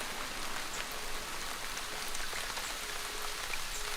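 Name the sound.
heavy rain falling on Caribbean forest in Cuba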